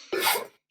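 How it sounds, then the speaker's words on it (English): One short, sharp sneeze from a person somewhere near the microphone during a Magic: The Gathering stream, a quick breathy burst that cuts off into silence. "I can hear you sneezing."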